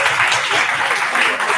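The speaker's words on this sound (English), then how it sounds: "I would like to have a round of applause for them." A crowd at a youth parliament competition claps in sustained, dense applause filling the hall, close and loud throughout.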